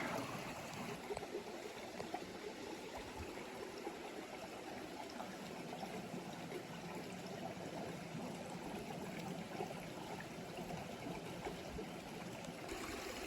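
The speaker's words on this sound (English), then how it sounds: "nice and clear water coming right out of the notch" Clear, cold mountain stream water pouring out of a notch along the Appalachian Trail, a soft continuous trickling and gurgling flow that stays steady and fairly quiet, with no voices.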